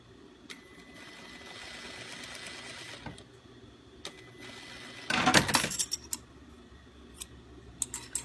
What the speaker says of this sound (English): I'm going to stitch almost in the ditch, but I'm following the foot